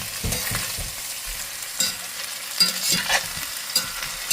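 Pork stir-fried with onion and garlic, along with carrots and potatoes, sizzles in a pan while a utensil scrapes and stirs in irregular bursts, close and fairly loud, with no one speaking.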